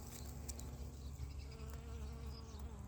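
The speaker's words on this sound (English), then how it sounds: "the bees are always all over it" Bees buzz steadily around salvia flowers in a home yard garden, a soft continuous insect hum that holds throughout at low volume with no talking.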